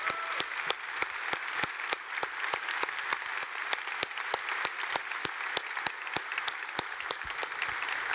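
Steady, full applause from a keynote audience at GitHub Satellite, a continuous wash of clapping with a regular sharper clap cutting through, holding at an even level the whole time.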